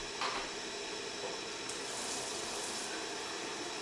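A tap runs while water is drawn, a quiet, even hiss of flowing water that continues without a break and sits faint in the room.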